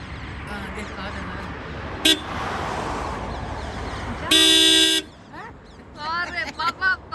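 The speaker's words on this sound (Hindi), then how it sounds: "अरे पापा बैठ के गाड़ी में हॉर्न बजा रहे हैं।" Car horn honked by a driver in a parked family car on a road trip in Rajasthan, India: one short toot, then a long loud blast, with people talking around it and background road noise.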